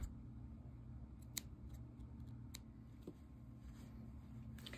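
Scissors snip through knitted yarn in a quiet room, giving a few soft, separate clicks over a low background hum.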